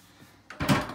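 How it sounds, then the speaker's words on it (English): A Samsung washing machine door is seated onto its frame during a drain pump repair, giving a single nearby clunk and rattle of plastic and metal after a quiet moment. "Sit the door onto its frame at the bottom."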